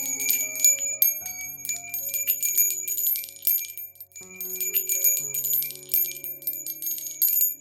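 Small decorative bell shaken so it rings brightly in repeated, jingling bursts, close and fairly soft, with no voices over it.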